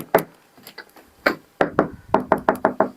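Knuckles rap on a thick, heavy wooden door of a house in an Igbo village, first a few scattered knocks, then a quick run of six sharp, close hollow raps.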